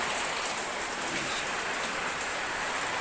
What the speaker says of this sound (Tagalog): nagising tuloy ako kasi ang lakas ng hangin saka ng ulan